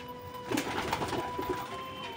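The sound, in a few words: pigeons cooing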